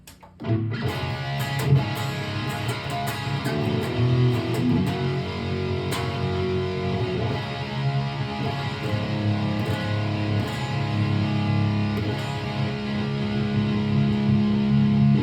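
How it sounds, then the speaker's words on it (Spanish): An electric guitar played through a digital pedalboard with the distortion pushed high, giving a dense, saturated tone that breaks up and smears as sustained chords and notes ring for about fifteen seconds, with no talking. "si yo intento compensar esa ganancia subiéndole aquí a la distorsión, aquí es cuando ya se empieza a descomponer el sonido"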